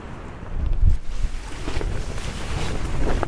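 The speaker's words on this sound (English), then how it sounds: "that wind is absolutely brutal" Strong gusts sweep across open moorland and batter a Tarptent Scarp 1 pitched beside a sheltering wall, making a loud, continuous roaring rumble that swells and buffets, with no talking.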